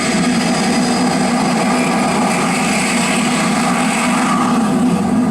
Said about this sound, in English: to the thunder of a jet engine